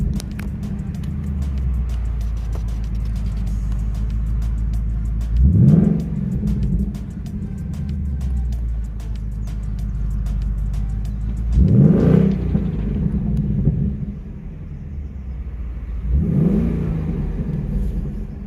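A 2021 Ford Mustang GT V8 revs repeatedly, three sharp throttle blips rising over a steady deep idle rumble, loud and close.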